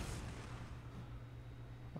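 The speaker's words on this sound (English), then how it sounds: "Fire auto cannon into that." Autocannon fire from a dreadnought in the Warhammer 40,000: Sanctus Reach strategy game, heard as a quiet, low, continuous battle rumble with a heavy droning hum and a faint thump near the end.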